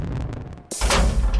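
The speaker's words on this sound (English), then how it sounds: "We're sending the rocket anyway" A rocket launches in a video game, starting with a sudden heavy blast and then a sustained, loud roaring rumble as the quieter background gives way to the thundering launch.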